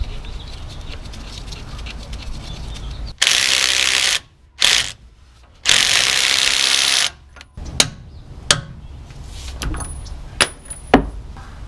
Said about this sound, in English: I'm going to get it started with the impact, and then I'm going to follow it up with the torque wrench